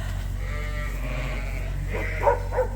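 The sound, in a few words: sheep bleating in lamb barn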